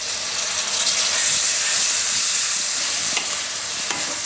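Tomatoes hit hot oil with spices and are stirred for a Gujarati spinach and gram flour curry, giving a loud, steady hissing sizzle with a couple of faint scrapes near the end.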